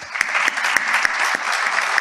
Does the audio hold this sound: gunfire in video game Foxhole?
no